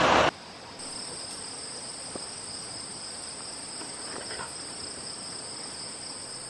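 Late-summer crickets chirp in a steady high-pitched chorus across a quiet meadow, with a short loud burst at the very start.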